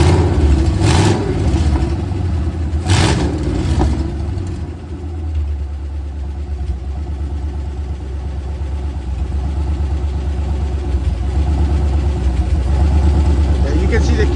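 Chevrolet Nova with an LS 5.3 V8 running inside a garage, a loud steady low rumbling idle with a couple of sharp blips early on, then a settled burble throughout.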